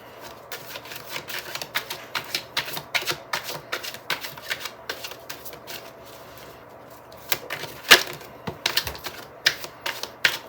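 Tarot cards shuffled and drawn from a deck during a reading, a long run of quick, crisp riffling and slapping flicks close by, with a sharper snap near the end and no talking.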